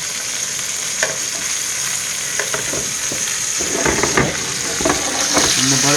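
Wagyu steak frying in butter, with a loud, continuous close sizzle and crackle, broken by clattering stirring and basting strokes that grow busier toward the end.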